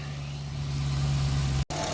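A Holden VE/VF Commodore SS engine idles steadily just after start-up following a radiator replacement, a low, even rumble close to the microphone with a brief dropout near the end.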